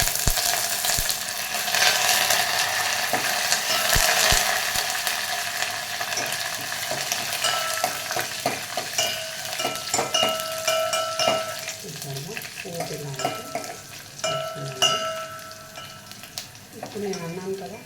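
Dried red chilies fry in hot peanut oil for a Rayalaseema-style tempering, giving a crackling sizzle that fades to softer popping, with stirring clicks and scraping in the pan and faint voices in the background.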